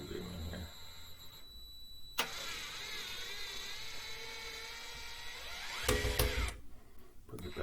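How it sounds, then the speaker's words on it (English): A Dewalt DCF682 gyroscopic cordless screwdriver slowly backs out a screw, giving a close, steady whirring motor whine for a few seconds, framed by sharp clicks at the start and end. "if I want to take the screw out, I can do it really slow"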